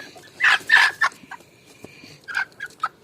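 Chickens and a rooster in a backyard coop give a few loud, close clucks and squawks in short bursts, with quieter calls in between.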